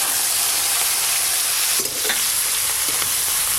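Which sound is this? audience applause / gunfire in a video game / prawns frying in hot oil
prawns frying in hot oil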